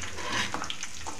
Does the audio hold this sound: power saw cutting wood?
no